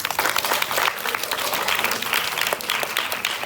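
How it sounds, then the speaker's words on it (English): A debate audience claps steadily and densely for a few seconds after the teams' performance, a full round of applause in a hall with no voices over it. "Please give them a big applause."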